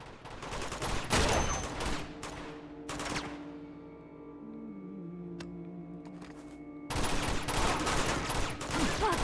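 Bursts of rapid video game gunfire from Uncharted 2 crackle loudly at the start and again near the end, separated by a quieter stretch of low hum and tones.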